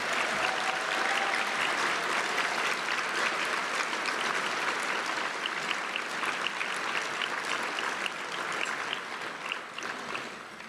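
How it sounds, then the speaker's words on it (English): Sustained applause from a sizable crowd at a State Bar of Texas luncheon, dense and even for about ten seconds before gradually tapering off. "How about a round of applause for all of our 50 years lawyers"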